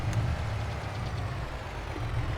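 A truck engine in Farming Simulator 22 rumbles at a steady low idle, a continuous deep hum with no pauses, close and moderately loud throughout, with no talking.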